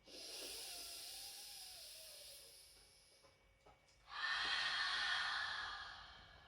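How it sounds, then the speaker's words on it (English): A strong yoga exhalation, a long steady breath out during a side-body stretch, followed after a brief lull by a louder, more forceful rush of breath; close and alone with no talking. "Strong inhalation into the rib cage. Exhale."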